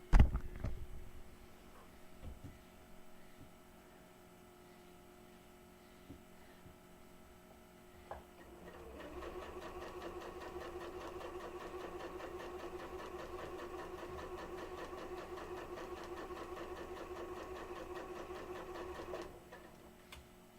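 An Elna Model 520 sewing machine used for quilting hums quietly at first, then runs steadily with a loud, even mechanical whir for about ten seconds before stopping, close up with no voices.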